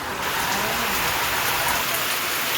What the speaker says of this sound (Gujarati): ધીમી ધારે વરસાદ ચાલુ થઈ ગયો